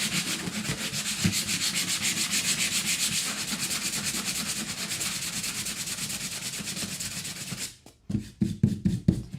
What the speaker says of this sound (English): if I can do a little bit of sanding just to get the initial ickiness, you know, off